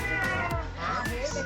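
Several people imitate a cat meowing with rising and falling voiced calls, overlapping in a lively group of children and adults.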